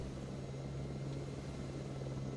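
Helicopter in the video game Jurassic Park: Operation Genesis, a faint, steady mechanical hum with a constant low droning tone that never changes, with no talking.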